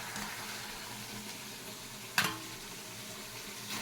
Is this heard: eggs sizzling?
yes